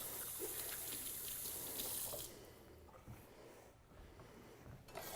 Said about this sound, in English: I'm just going to quick wash my hands.